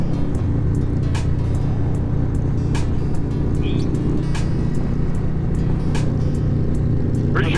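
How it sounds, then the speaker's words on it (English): A car passes on a road while riding in a moving vehicle at about 60 mph, the steady engine and road rumble continuous throughout with brief faint sounds over it. "Car coming. Car coming."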